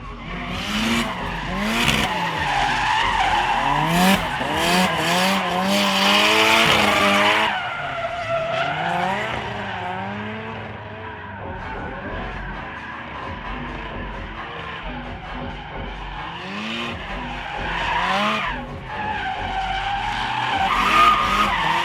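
During a test drive, a drift car squeals and skids its tires in long sustained slides, its engine whining up and down, loud and close with no talk.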